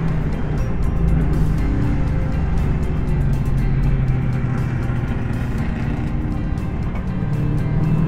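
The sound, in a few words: historic racing cars running on track grid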